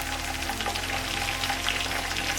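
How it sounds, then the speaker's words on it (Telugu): Onions frying in hot ghee in a pot for a mutton biryani, a steady dense sizzle that stays loud and close throughout, with no talking. "ఇప్పుడైతే ఆనియన్స్ వేసేద్దాము"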